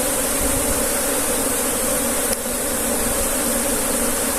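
Honeybees buzzing steadily at a beehive, a loud continuous close drone that holds unchanged throughout with no talk.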